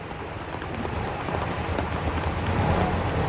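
Heavy monsoon rain in Kerala pours down steadily, a dense, continuous wash of drops with no voices.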